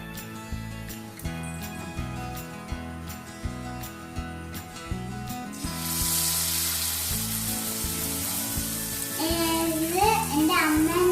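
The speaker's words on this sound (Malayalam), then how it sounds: "ഇനി നമുക്കിത് എണ്ണയിലിട്ട് പൊരിച്ചെടുക്കാം" Food sizzles as it goes into hot oil in a home kitchen, the frying starting partway through and swelling into a steady, loud crackle with bubbling bursts, after an earlier stretch of rhythmic thumping background music.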